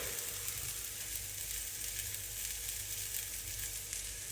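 Garlic added to a pan of browned onions sizzles in a steady, close, dense hiss that carries on alone without pause.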